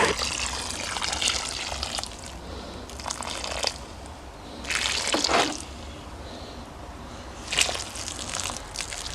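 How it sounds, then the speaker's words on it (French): Water pours from a watering can onto garden soil while summer leeks are planted: a steady trickle runs under outdoor background noise and swells into louder splashing bursts, with no talking. "Je reprends l'arrosoir et je fais couler."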